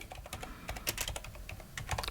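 Typing on a computer keyboard, entering a prompt for AI-generated 3D textures: a steady run of close, crisp key clicks at an uneven rhythm, heard alone without talk.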